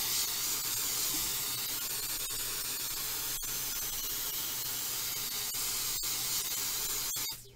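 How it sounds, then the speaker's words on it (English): A steady, loud aerosol spray hisses continuously for several seconds while removing gel nail polish, with a few faint clicks scattered through it before it stops. "here comes the spray"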